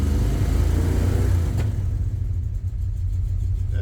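A 1967 Dodge Dart engine with a freshly tuned carburetor idles at about 800 rpm, a loud, steady low rumble heard up close with no one talking.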